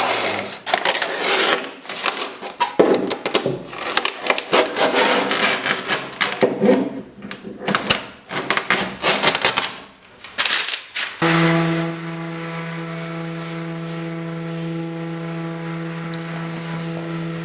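Sanding the edges of cured epoxy fiberglass tape on a PT11 boat build with a power sander, a loud, rough, uneven grinding that shifts with pressure, then settles into a steady motor whine with strong tonal hum.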